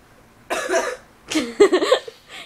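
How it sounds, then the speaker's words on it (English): A person's smoker's cough, two bursts of harsh, raspy coughing close to the mic, the second a rapid chain of hacks, followed by a faint trailing breath. "Here we go again with smoker's cough."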